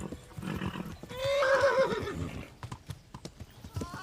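A horse in the medieval video game Kingdom Come: Deliverance lets out a loud wavering neigh amid rapid galloping hoofbeats, with a faint voice underneath and hooves clopping on after the whinny fades.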